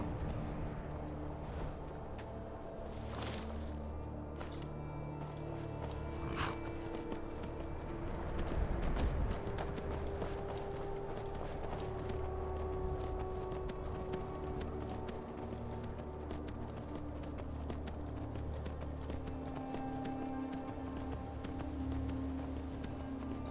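Horse hooves clip-clop at a steady walking pace in the video game Skyrim, a soft, even rhythm that continues over a low ambient game soundtrack for the whole stretch.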